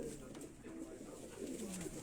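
Low, rolling coos come from Teddy breed pigeons kept in a loft, a soft continuous murmur of several birds over steady background noise.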